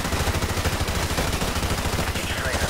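Rapid gunfire rattles continuously and loudly in a video game during the No Russian mission, with a voice briefly heard beneath the shots.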